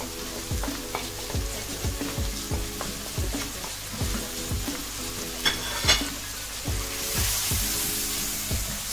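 Dry spices stirred into hot mustard oil for aloo methi, a steady sizzle under a regular rhythm of spoon strokes scraping the pan about once a second, close and alone.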